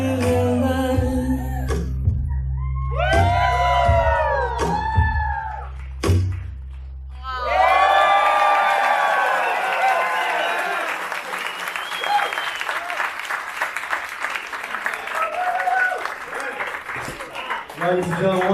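Wedding guests applaud and cheer, a dense, sustained wash of clapping over the second half, following amplified singing and music at the start.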